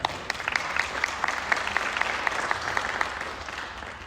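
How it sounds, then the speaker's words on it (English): Applause at a public feedback meeting held in a high school, a modest group clapping with distinct individual claps audible, steady for about four seconds and tapering at the end. "I'll give her a round of applause for aggregating a ton of comments."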